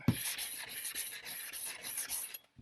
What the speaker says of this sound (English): I'll just sand this edge down.